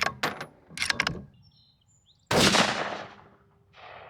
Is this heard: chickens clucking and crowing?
no